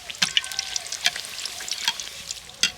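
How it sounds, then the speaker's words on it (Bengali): Rice-flour and nolen jaggery pitha frying in oil, a quiet close sizzle with crisp intermittent pops and crackles, no talk. "আর এইভাবে উল্টে পাল্টে ভালো করে পিঠেটা ভেজে নিতে হবে।"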